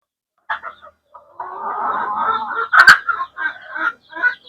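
Desi chickens cluck on a Bangladeshi poultry farm, close and clear, a run of short and drawn-out calls with one sharp loud squawk in the middle.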